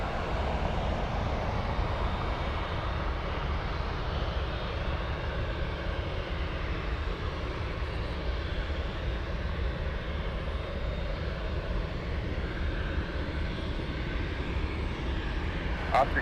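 An aircraft takes off at Anchorage airport, its engines giving a broad, steady roar that holds at an even level throughout.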